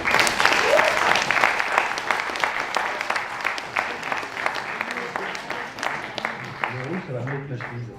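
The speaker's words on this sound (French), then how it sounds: "je vous demande une grande ovation pour Benjamin qui va vous présenter le film" A festival audience breaks into a loud, sustained ovation for a guest about to present a film, dense applause that thins out over several seconds while a voice speaks over it.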